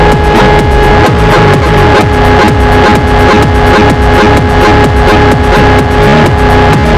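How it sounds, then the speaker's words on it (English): A loud, dense drone from a modular synthesizer, a PWM waveform layered with white noise and cross-modulating oscillators, steady and throbbing with a fast pulsing rhythm and a sustained hum, continuous throughout with no talk. "You also bring in this PWM waveform here and white noise."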